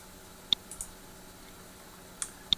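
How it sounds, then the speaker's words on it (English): A computer mouse clicks several times while working in Google Earth, sharp isolated ticks spaced unevenly over a quiet background. "So click on that and click Open."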